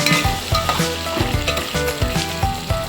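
Sliced onions and green chilies fry in hot oil for a plain salt-based rasam, a dense, close sizzle with a rhythmic pattern of stirring knocks and scrapes throughout.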